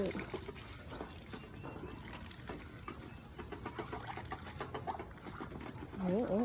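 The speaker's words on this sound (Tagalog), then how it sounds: "gutom na gutom ang aking mga pato." Hungry pet ducks on a farm quack in a busy cluster of short calls, near and fairly loud, over outdoor background noise.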